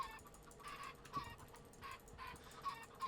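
Chickens in the Minecraft video game squawk and cluck in several overlapping bursts across a quiet background, repeated every half second or so at low volume.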